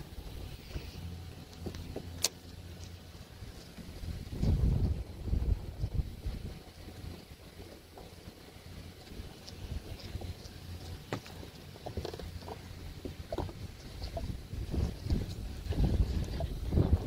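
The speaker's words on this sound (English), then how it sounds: "This wind is not my friend. This wind is it's aggressive." Strong, aggressive wind of around 15 mph sustained gusts roars and buffets the microphone outdoors, swelling and easing over a steady low rumble with no voices.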